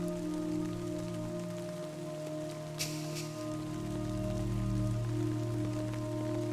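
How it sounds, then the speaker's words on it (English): Timefall rain falling in a video game, a steady patter of drops on surfaces under a low hum of ambient game tones, moderately loud throughout with one brief sharper splash partway through. "It's rain, the timefall rain."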